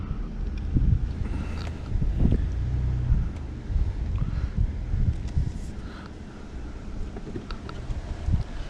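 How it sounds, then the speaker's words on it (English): Gusty wind buffets the microphone outdoors in Iowa with continuous low rumbling and bursts, no voices present. "Kind of windy today"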